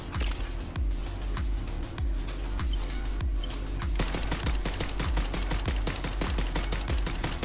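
Video game gunfire with a rapid, regular rhythm of punchy low thuds, steady and close, the firing growing denser and busier in the second half.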